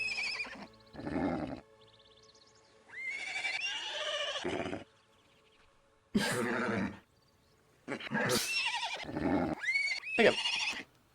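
Several loud whinnies from a horse in the video game Black & White, rising and wavering neighs in separate bursts with short quiet gaps between them, close and clear, with no talking.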